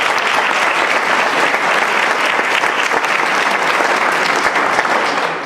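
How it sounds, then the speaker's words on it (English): Around two hundred attendees at a regional livable-communities summit applaud loudly and continuously, a dense wash of clapping that holds steady to the end. "give yourselves a big round of applause"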